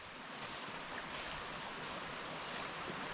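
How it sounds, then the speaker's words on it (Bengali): A mountain stream on a trek near Saddle Peak babbles continuously, a soft, steady wash of flowing water with no breaks, faint and somewhat distant. "জলের কলকালানির শব্দ একটা শুনতে আলাদা মজা, সেই আওয়াজটা এখানে পাওয়া যাচ্ছে বন্ধুরা"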